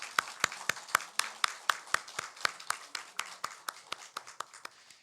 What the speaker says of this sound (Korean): 우리 이분들에게 우리 감사의 박수를 한번 올려드렸으면 좋겠습니다